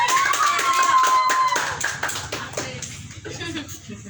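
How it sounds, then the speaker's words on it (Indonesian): A congregation claps for a young man about to give his testimony at a church gathering, a brisk burst of hand claps that tails off after a few seconds while a voice talks over it. "Tepuk tangan untuk Juan dong"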